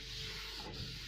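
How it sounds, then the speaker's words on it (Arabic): A frying pan being wiped clean with oil before cooking gluten-free crêpes, a steady close rubbing and scraping that holds at one level for about a second, with no voices. "نمسح المقلاة مليح"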